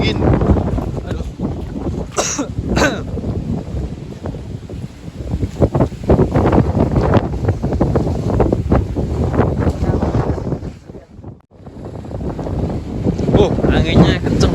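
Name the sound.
strong cold wind on Mount Telomoyo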